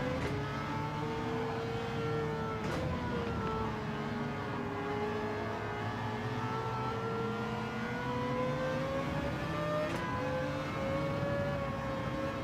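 A race car engine in Gran Turismo 7, a GR3 or GR4 class machine on hard tyres, drones continuously with its pitch slowly rising and falling as it revs through gears, steady and moderately loud throughout.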